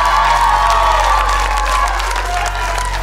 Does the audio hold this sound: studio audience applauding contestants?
yes